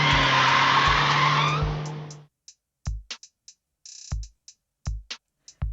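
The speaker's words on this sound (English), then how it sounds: "You turn as the vehicle abruptly screeches to a halt beside you." Car tires screech loudly in a sustained skid as a vehicle brakes to a halt, ending abruptly after about two seconds, followed by scattered short thumps and clicks against near silence.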